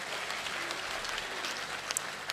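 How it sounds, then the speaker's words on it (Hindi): At a poetry recital, an audience claps in a brief, dense burst of continuous applause heard from within the crowd. "आपने जो तालियां बजाई हैं"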